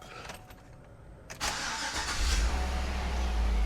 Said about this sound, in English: So I'm gonna go ahead and start it.